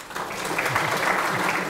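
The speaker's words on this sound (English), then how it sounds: "Doug always asks for that individual applause" A crowd at a community volunteer salute applauds a public works director, with loud, even clapping that swells slightly and carries on without a break.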